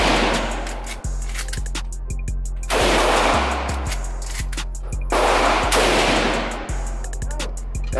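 Gunshots at an indoor shooting range, sharp loud reports firing in quick irregular strings and bursts with brief pauses between, each crack ringing with room reverberation.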